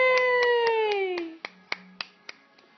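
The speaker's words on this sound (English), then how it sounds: "Yay! You're clapping!" A baby claps his hands at home: an adult's drawn-out cheer comes first, then four or five sharp, evenly spaced claps follow on their own, close by and fading slightly toward the end.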